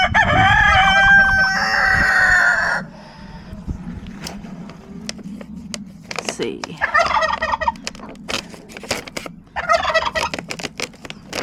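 Farm birds calling loudly up close, with a turkey gobble and rooster-like crowing at the start, then further bursts of gobbling over a windy, rumbling outdoor background; a voice speaks briefly.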